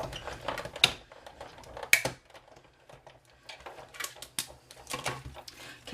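Die-cutting machine pressing card stock through square Framelits frame dies, a series of irregular clicks, clacks and mechanical rattles, with sharper knocks near the start and a busier stretch of clatter toward the end, close by.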